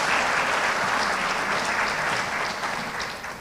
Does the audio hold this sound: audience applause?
yes